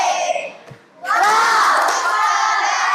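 A group of children in a classroom or hall cheer and shout together, a burst of loud excited voices after a short pause, with some clapping mixed in.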